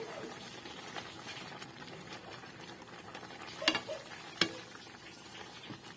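Squash and kangkong with sardines being stirred in a pan: a faint, steady sizzle with a couple of brief scraping clicks from the spoon, heard on its own.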